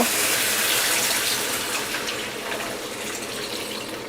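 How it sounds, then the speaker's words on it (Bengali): Remaining coconut milk poured into simmering spice mix for a prawn malai curry: a steady, close liquid pour with a bright splashing wash that fades slightly over a few seconds, no voices. "এখন আমি এখানে অবশিষ্ট যে নারকেলের দুধটা ছিল সেটা দিয়ে দিব।"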